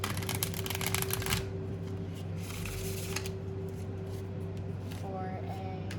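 Oracle cards from a Prism Oracle deck are shuffled in a burst of rapid riffling flutter early on, then a softer second pass, over a steady low hum and quiet room noise.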